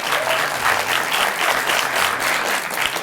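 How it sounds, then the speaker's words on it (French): A small audience of about 38 people applauds a Russian mentalist's stage act: dense, continuous clapping that stays steady and fairly loud, with faint crowd murmur beneath. "ils peuvent applaudir pendant 1 heure"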